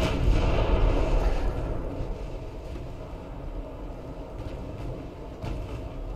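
Main battery guns of warships firing in the naval combat game Ultimate Admiral Dreadnoughts, a loud sustained rumble of booming artillery that is heaviest at the start and then settles into a continuous low roar.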